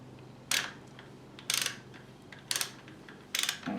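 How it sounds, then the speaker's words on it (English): Ratchet with a 5/8 socket loosening the oil drain plug on a Harley-Davidson Fat Bob, four short metallic clicking bursts spaced about a second apart, close and fairly quiet. "So you need a 5/8 socket to undo this."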